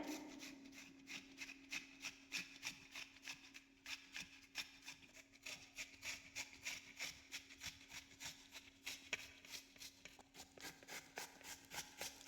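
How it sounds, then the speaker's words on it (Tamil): A potato being grated by hand makes steady, rhythmic rasping strokes, quiet and close, repeating evenly with no talk. "இந்த மாதிரி துருவி எடுத்துக்கோங்க பாருங்கள் எல்லாத்தையும் நல்லா துருவி எடுத்தாச்சு"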